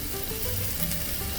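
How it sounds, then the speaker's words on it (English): A tablespoon of garlic and a tablespoon of butter hitting a hot wok, giving a brief, even crackling sizzle up close. "about a tablespoon of garlic and a tablespoon of butter. And we'll add that to the wok"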